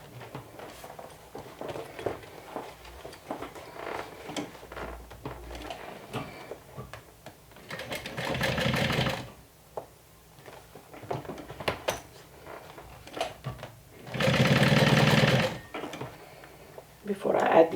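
Domestic sewing machine top stitching a crossbody tote bag with a quarter-inch seam allowance, heard in two steady motor runs of a second or two each, close and loud, with quieter handling noise and pauses between.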